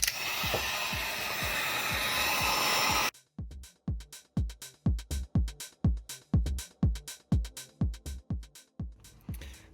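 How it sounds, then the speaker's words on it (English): A heat gun blows a steady, close rushing hiss over the leather of a car door panel for about three seconds, followed by a run of rhythmic, separate thumping bursts. "go over it with this heat gun"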